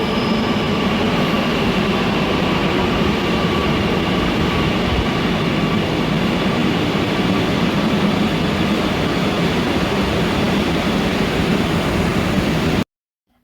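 Riding a metro train from Ernakulam toward Aluva: a steady, loud, rumbling interior drone with rail noise continues unbroken throughout, then cuts off at the end.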